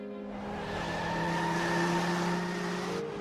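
Cartoon race cars roar past at speed in an animated race, a sustained engine whine with tire squeal and skidding lasting about three seconds at steady loudness.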